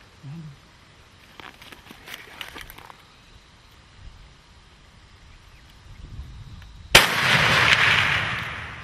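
A handgun shot fired while hunting sable antelope in Coutada 11, Mozambique, lands as one sudden loud blast near the end, with a burst of broadband noise after a stretch of quiet outdoor ambience and faint rustling.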